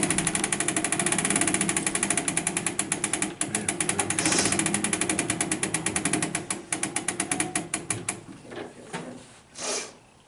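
An old music player at a historic ranch is being wound up, a rapid loud ratcheting click repeating steadily for several seconds before slowing and stopping, with no talk.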